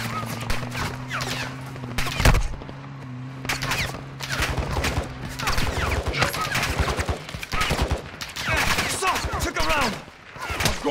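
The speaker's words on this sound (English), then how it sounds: "You are taking effective fire." Bursts of automatic gunfire in a Call of Duty Modern Warfare 2 DMZ firefight at Al Mazrah, dense rattling volleys running throughout with a steady low hum and radio-style voices over the top.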